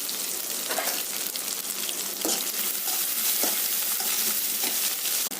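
Curry leaves, crushed garlic and green chillies sauté in a hot oiled pan, a steady loud sizzle running throughout with occasional scraping stirs and light clinks, no one talking.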